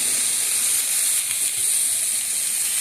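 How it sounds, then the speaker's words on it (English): Italian sausage sizzling steadily in a pan with peppers and onions, a dense, even hiss of frying that holds at a constant level throughout with no talking. "add that right into the pan here with the peppers and onions"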